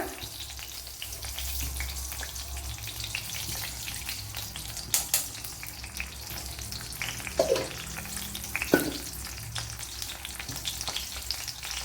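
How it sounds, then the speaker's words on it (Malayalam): Mustard seeds spluttering in about one and a half tablespoons of hot coconut oil in a pan: a steady crackling fry, with a few sharper pops standing out near the end. "ഒന്നര ടേബിൾ സ്പൂൺ വെളിച്ചെണ്ണ ഒഴിച്ചു കൊടുത്തിട്ടുണ്ട് അതിലേക്ക് കടുക് ഇട്ട് കൊടുക്കുക"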